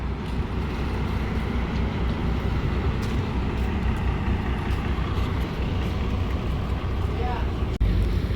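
Ferry boat pulling away from Rewas jetty bound for Karanja, its engine a steady, loud low rumble with broadband wash noise that holds throughout, a brief knock near the end.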